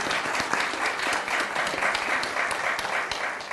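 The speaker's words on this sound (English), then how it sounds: "these people deserve a huge round of applause" Room full of people at a local government sea-level-rise presentation gives steady, dense applause to the technical working group, continuous throughout with no voices over it.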